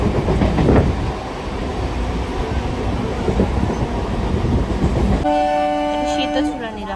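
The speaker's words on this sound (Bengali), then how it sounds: "দৌড়াতে দৌড়াতে এসে ট্রেন ধরলাম।" A passenger train runs loudly with a steady rumble and rattling under indistinct voices, and near the end a long horn sounds as a clear tonal blast.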